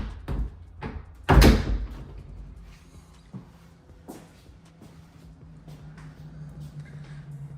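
Cabinet doors over a washer, water heater and furnace in a mobile home being shut, one loud slam followed by a few softer knocks and clicks, close by and with no voices.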